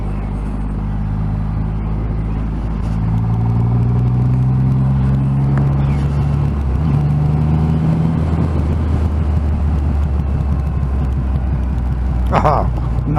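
A 2020 Triumph Rocket 3 2500 cc motorcycle rumbles steadily while riding, its deep engine drone shifting pitch under wind noise and a rider talking throughout.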